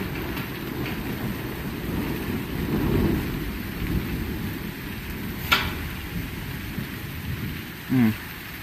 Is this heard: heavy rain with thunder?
yes